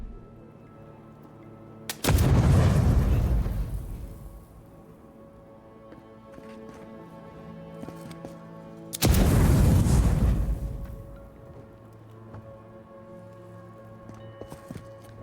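Grenades explode in the fantasy game Avowed: two heavy booms about seven seconds apart, each a sudden loud blast that rolls off into a rumbling tail over quieter background music.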